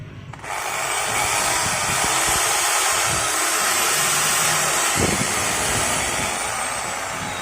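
An electric drill with a shorting fault that trips the circuit breaker is switched on and whirs steadily and loudly, the motor noise starting abruptly after a brief quiet moment and holding constant to the end.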